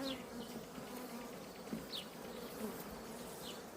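A dense, steady buzzing of many honeybees at a hive, with occasional individual bees zipping past close by.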